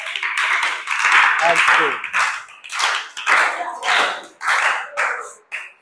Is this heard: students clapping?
yes